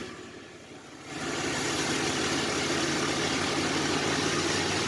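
A 1990 Chevrolet S10 Blazer 4x4's engine runs nearby after years of sitting, a quieter idle swelling about a second in into a steady, louder drone as it goes into gear.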